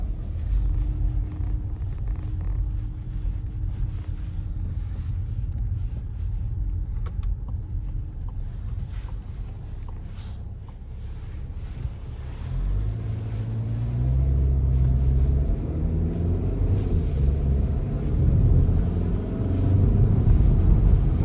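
Skoda Octavia 4x4 with 184 horsepower on a test drive, a steady low engine and road rumble from inside the cabin that grows louder and deeper as the car picks up speed partway through.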